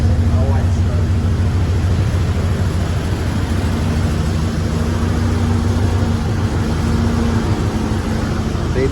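A Toyota LandCruiser barn find, carburetor treated with seafoam, with its engine running as a steady low rumbling drone close by, while people talk over it.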